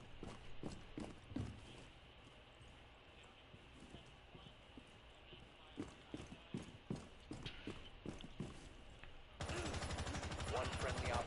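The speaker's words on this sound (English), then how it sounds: "Oh, that gun sounded neat." Gunfire in the Rainbow Six Siege video game crackles in a run of sharp, scattered shots over a busy game ambience, ending in a dense, loud burst of continuous fire.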